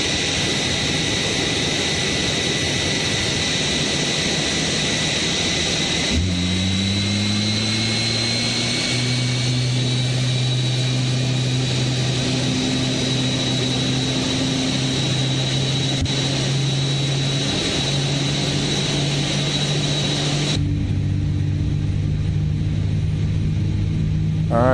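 Aircraft engines spooling up in a flight simulator game, a continuous loud roar with a rising whine joining partway through and holding steady, then shifting near the end.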